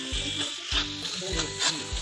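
Masala sizzles in hot oil in a kadai as tadka for kadai chicken, with a steady close fry and rhythmic scraping stir strokes about every half second.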